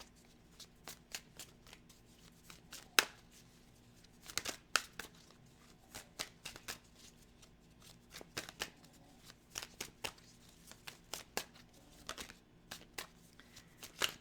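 Tarot cards being shuffled up close, crisp riffling bursts and soft slaps repeating irregularly, with quiet pauses between handfuls.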